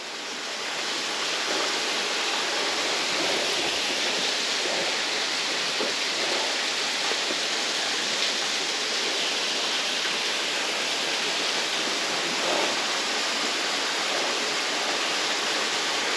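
Adkins Creek Falls, the main fall of a canyon creek running strong, roars as a steady, dense wash of falling water from close range, continuous and even with no voices over it.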